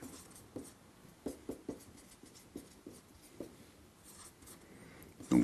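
Chalk or marker tapping and scratching on a board while math equations are worked out, a series of short, sharp strokes in an irregular rhythm over a quiet room, with a louder knock at the end.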